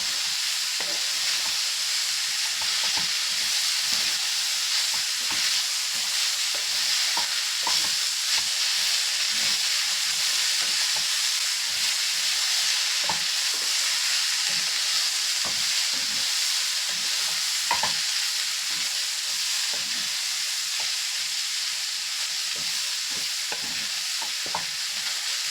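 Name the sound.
potatoes and peas stirred and frying on low flame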